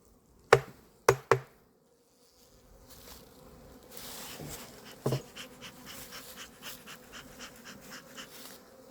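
A young honeybee colony, still too small to move into a hive, buzzes faintly and steadily after a few sharp close knocks at the start.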